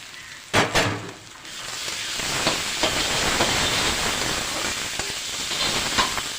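Food fries in a pan with a continuous broadband hiss and sizzle, opened by a couple of sharp clanks, with no one speaking.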